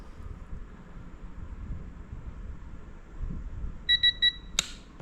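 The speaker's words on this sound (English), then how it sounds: "you'll be able to see it'll beep when I get to 30, and we want to see when this thing actually clicks" Digital torque wrench tightening rod bearing bolts on a BMW S54 engine in an E46 M3: after quiet wrenching, three quick electronic beeps sound, then a single sharp click.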